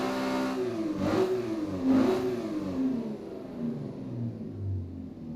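A car engine in a sim drifting game revs up and down in a few quick swells, the pitch climbing and falling as the throttle is blipped, heard close and alone.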